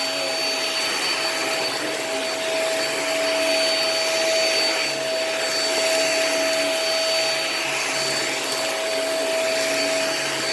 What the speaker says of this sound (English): This is a pretty good vacuum.